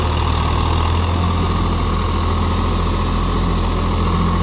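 A Swaraj 855 FE 4WD tractor engine runs steadily while driving a 72-blade Maschio rotavator through a raised field, a loud, continuous low diesel throb with no pauses, close and alone.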